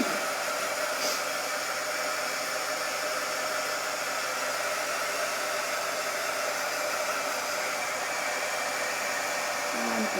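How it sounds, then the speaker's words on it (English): An embossing heat tool blows a steady, loud, even hiss throughout while drying ink on a craft pillow project, with no break and no talking. "I'm going to pull out my embossing tool, which gets a lot warmer."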